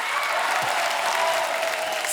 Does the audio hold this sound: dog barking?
no